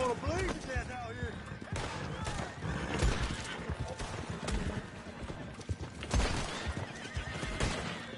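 A horse in a Red Dead Online gunfight neighs sharply near the start, followed by steady clip-clopping hooves and scattered shots and thuds in a busy battle mix.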